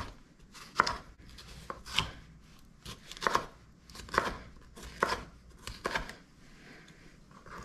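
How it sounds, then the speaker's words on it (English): A knife thinly slices vegetables on a cutting board for a Thai salad with drumsticks and Brussels sprouts, about eight crisp, distinct chops at an unhurried, fairly even pace, close and quiet. "We're gonna go for pretty thin slices here."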